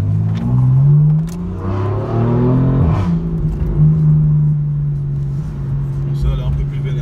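A BMW M4 engine drives and revs, a loud close tonal growl rising and falling in pitch with gear changes, heard from inside the car with a voice talking over it.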